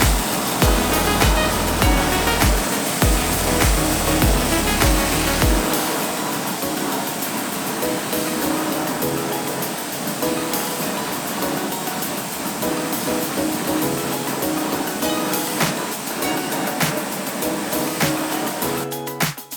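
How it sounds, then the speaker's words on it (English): A pressure washer blasts a steady, loud hiss of spray across the exterior of a van being detailed outdoors in the sun, continuous and close for the whole stretch, with no voices. "you can go with the pressure washer and wash it all away"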